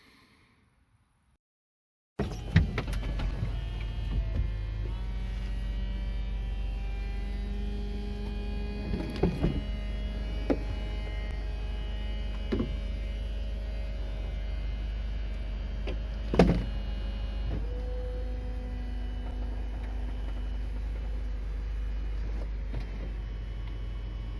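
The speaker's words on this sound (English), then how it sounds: "see if we can get this roof down with this little switch just here" Electric folding roof of a 1999 Mercedes-Benz SLK 230 Kompressor retracting: after a brief silence a steady motor whine and low hum run continuously for over twenty seconds, broken by occasional clicks and clunks from the mechanism, no talk.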